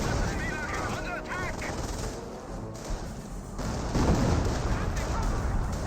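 Artillery fire and explosions in a video game battle, heavy booms and crackling gunfire rolling continuously under a commentator's voice.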